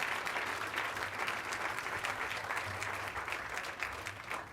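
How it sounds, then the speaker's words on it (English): Audience applauding steadily for two mayors at a presidential inaugural speech, a dense, sustained clapping from a large crowd that holds level throughout with faint voices mixed in. "give those two mayors a round of applause."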